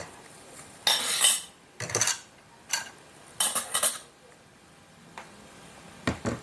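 A utensil clatters and scrapes against a bowl in several separate bursts while egg tart custard mixture made with sweetened condensed milk is stirred, with quiet pauses in between and no talking.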